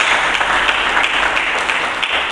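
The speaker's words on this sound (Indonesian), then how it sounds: "Berikan tepuk tangan bagi Yesus Kristus." A church congregation claps loudly during a worship service, a dense, sustained burst of applause that fills the whole stretch without a break.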